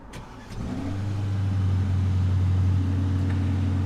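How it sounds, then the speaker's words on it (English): A push-button start fires up the engine of Aston Martin's first SUV, a close, brief crank followed by a rising roar that settles into a deep, loud, steady idle with no talking. "you push to start the car"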